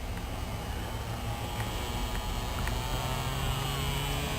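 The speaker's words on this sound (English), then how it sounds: "Sounds like an electric shaver." A small electric motor running fast on about 5 to 10 volts gives a steady, continuous high buzz like an electric shaver, even and sustained with a constant hum beneath and no talking.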